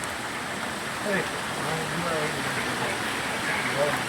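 Heavy rain pours down in a steady, even hiss over Moti Gop, Gujarat, while someone talks over it.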